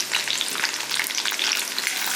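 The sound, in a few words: ginger sautéing in a pan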